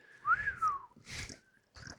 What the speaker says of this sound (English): Slide whistles.